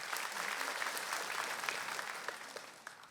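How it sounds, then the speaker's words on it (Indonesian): Audience applause at a stand-up comedy show: a crowd claps steadily and fairly close for about three seconds, with a few crisp individual claps, before it starts to thin out. "Tepuk tangan dulu dong."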